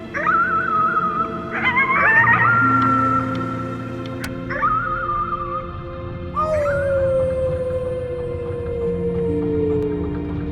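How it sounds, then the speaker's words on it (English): Howling at the moon in the video game Before Your Eyes: a loud, close, wolf-like voice gives several long wavering howls that rise and slide downward, separated by short pauses. "You howled at the moon, at the top of your lungs."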